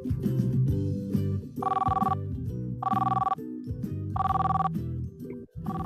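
A telephone rings loudly in repeated bursts, three clear double-rings separated by short pauses, heard alone with no talk over them.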